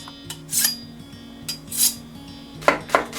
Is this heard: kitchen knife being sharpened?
yes